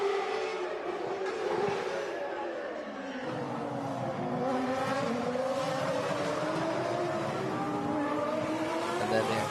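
Historic racing cars at the Monaco Historic Grand Prix roar past in a loud, continuous stream, engines rising and falling in pitch as they accelerate and shift, close and dense with overlapping cars.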